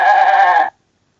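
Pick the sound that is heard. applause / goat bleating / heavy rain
goat bleating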